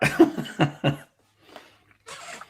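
A few short, harsh throat-clearing coughs close up, followed by quieter breathy rasps after a pause.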